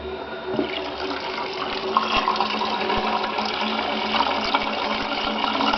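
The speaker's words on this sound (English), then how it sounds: "I'm just letting the hot water get directly into the pipes" Hot water pours steadily into a blocked toilet bowl to clear the drain, a continuous close-up rush and splash that holds an even level from start to finish.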